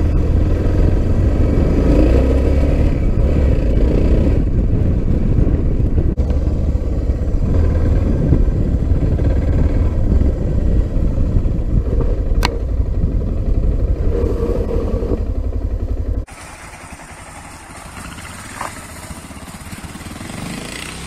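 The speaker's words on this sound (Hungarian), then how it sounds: "a races tattal megmértük a gyorsulásokat a két motornak" Two motorcycles accelerate hard, engines roaring loud and close in a sustained rumbling growl that swells and shifts, then cuts off sharply near the end, leaving quieter background noise.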